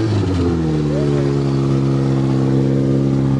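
A Toyota car engine idles steadily up close on a farm, a low droning hum with a faint rising whine partway through and a brief clatter near the start.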